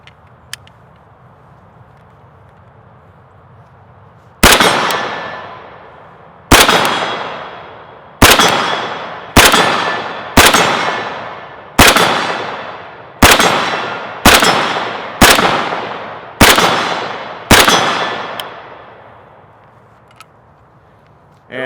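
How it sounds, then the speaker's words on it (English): Rifle rounds from an AK striking a steel target, about ten sharp metallic clangs at irregular intervals, each ringing briefly and fading, with no gunshot blast dominating and quiet between. "I'm sure you'll be able to hear the steel."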